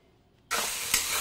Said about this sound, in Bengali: এই কাঁচা লঙ্কা পেঁয়াজটা আমি একটু লাল ব্রাউন ভেজে নেব।